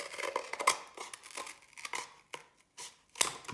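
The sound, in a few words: scissors cutting a paper towel tube in half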